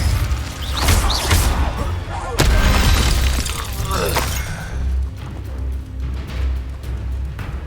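The Incendio fire spell in Hogwarts Legacy bursts with loud booms and shattering crashes, several sharp impacts in the first half that fade into rumbling debris, with a voice briefly heard.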